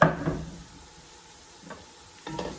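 Ground turkey sizzling softly in a pan on medium-high heat, with spoon scrapes and stirring bursts at the start and near the end and a quieter crackle between them.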